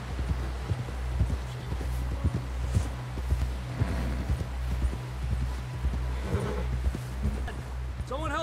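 Hooves of a horse walking in Red Dead Redemption 2, a steady clip-clop rhythm of moderate loudness over a low, droning music bed, with voices talking at times.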